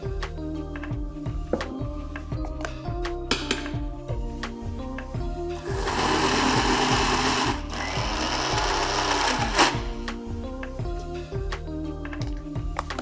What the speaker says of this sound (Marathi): थोडंसं पाणी घालूया आपण त्याच्यात आणि एकदा फक्त मिक्सर फिरवून घेऊया.